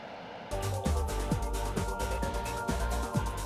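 A JSF-35 fighter jet at an air show gives a loud, continuous engine roar with a broad rushing tone and a repeating pulsing throb, heard up close with no talking.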